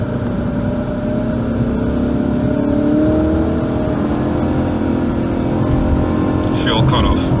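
Car with an M56/M45 automatic transmission held in a manually selected gear, engine revving hard under load as the driver upshifts, a steady strained drone with rising pitch, close and loud, with a voice speaking near the end.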